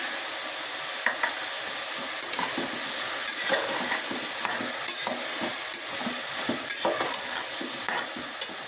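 Peas go into a hot pan of pav bhaji vegetables with potatoes, and a continuous loud sizzle and frying hiss carries on throughout, broken by repeated scraping stir strokes.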